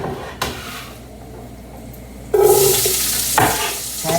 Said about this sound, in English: I'm going to put the onions. See, I got here the onions and the garlic.